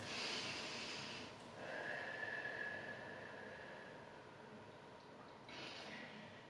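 Slow, deep breaths taken while holding a supported yoga pose, a soft airy exhale-like hiss repeating about twice, quiet and close, with no talking.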